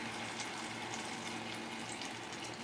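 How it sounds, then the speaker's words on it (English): A blended mix of bell peppers, onions and garlic is poured into a pot with tomato paste and onions, a steady close wet pouring and gushing sound with no voices. "So I'm going to pour that in there with the tomato paste and the onions."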